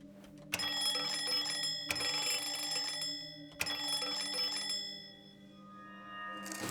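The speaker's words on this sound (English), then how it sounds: "let's ring the bell 3 times" A bell in the video game Lorelei and the Laser Eyes rings three times, each a sharp metallic strike followed by a sustained shimmering ring that fades slowly after the last one.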